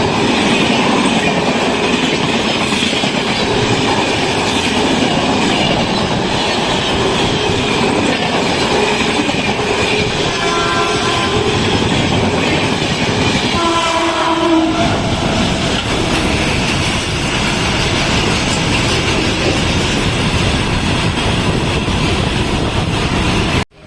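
A passenger train on the Rishikesh to Chandausi route rolls steadily along the rails, with a continuous loud rumble and wheel clatter, plus a brief tonal squeal or horn-like whine partway through.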